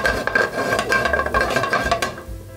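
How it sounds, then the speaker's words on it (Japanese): Breadcrumbs are stir-fried in a frying pan over medium heat, a steady close scraping and stirring with light clinks of utensil against the pan and no talk. "パン粉がこうパリパリになって美味しくなるので、ひと手間かけたい人は必ずちょっとこう炒めてもらいたいな"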